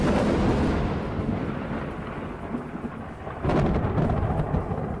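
Thunderstorm with heavy rain played in a radio ad, a loud continuous roar of downpour with rumbling thunder that swells again near the end, no voices.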